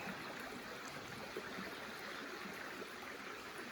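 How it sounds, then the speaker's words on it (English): A brook flowing steadily with a soft continuous rush and trickle of water, quiet and even throughout, no voices. "Another beautiful day on the brook."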